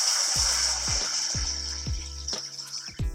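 Pre-mixed salt water pours steadily from a large bottle into a Fluval Evo 52L marine aquarium tank, a close, continuous rushing splash with rhythmic glugging pulses as air enters the bottle.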